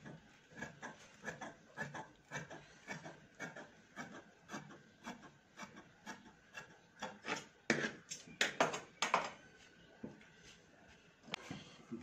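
Scissors cutting blouse fabric on a tailoring table, a quiet series of rasping snips in a steady, uneven rhythm that grows louder and denser toward the end, with no talking.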